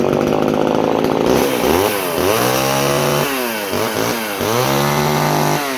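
A vintage Homelite Super XL Automatic chainsaw with a 16-inch bar and chain starts on a pull and runs loud and close, its engine revving up and dropping back in repeated surges.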